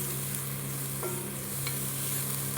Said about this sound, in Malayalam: അപ്പം നല്ലപോലെ ഒന്ന് ഇളക്കാം.